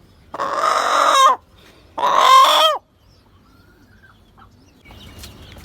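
A rooster on a rooftop garden gives two loud, drawn-out crows in close succession, followed by softer scattered clucks and faint background noise.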